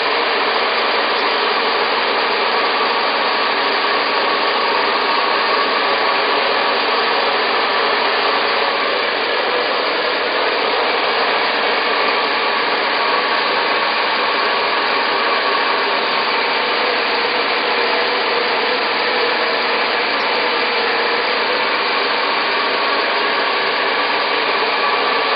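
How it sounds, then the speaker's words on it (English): A hair dryer blows continuously through a nozzle pointed down the hair during blow-dry styling with a natural bristle brush, a loud, even, unbroken whoosh that holds steady from start to finish. "Notice that my dryer nozzle is always facing down the hair"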